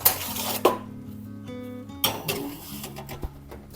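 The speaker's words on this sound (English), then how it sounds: "we're gonna take out our turkey and baste it" Tofu turkey roast handled at an oven: metal pans clank and scrape, a loud knock at the start and another around two seconds, with softer rattles, clinks and a brief hum between, close by and without speech.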